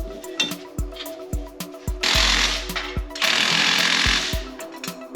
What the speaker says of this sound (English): Tighten the nuts onto the bolts.